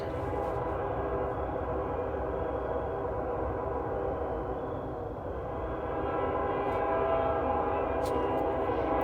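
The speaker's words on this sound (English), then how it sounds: "And there is my reliable train that always comes through." A train passes steadily nearby, its long sustained horn and rolling rumble filling the scene as one loud continuous sound that swells slightly toward the end.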